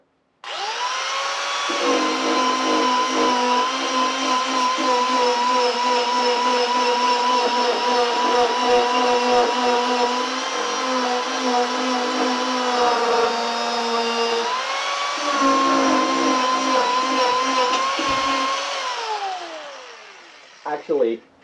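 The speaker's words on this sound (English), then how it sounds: "I'm just going to grind kind of this tail part out" An Arbortech cutter grinds out the tail section of a wooden cardinal carving held in a lathe, a loud sustained whining drone that holds steady, dips briefly midway, then spins down at the end.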